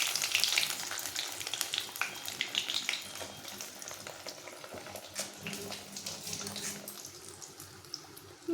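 Egg chops frying in hot oil in a home kitchen, giving a steady close crackling sizzle with scattered pops and spits throughout, with no talking.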